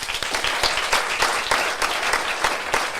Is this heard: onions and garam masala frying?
no